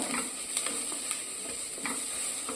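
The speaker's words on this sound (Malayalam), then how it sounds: "കുറച്ച് പച്ചമുളക് അത് ഇട്ടിട്ട് നമുക്ക് വഴറ്റുക. വീണ്ടും വഴറ്റി കൊടുക്കുക." Chopped green chillies being sautéed in a pan for cutlets, a steady low sizzle with a few soft scraping stirs from a spoon against the pan, close and fairly quiet.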